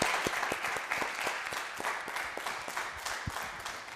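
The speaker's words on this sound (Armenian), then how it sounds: "Շնորհավորում եմ, ծափարություններ ձեր ընտանիքին։" Studio audience applause on an Armenian television talk show, a dense, steady wash of many hands clapping at close range throughout, with no talking over it.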